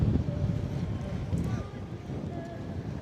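Strong gusty wind buffets the microphone outdoors at a waterfront at night in Taiwan, rumbling and rushing unevenly with a faint background hum.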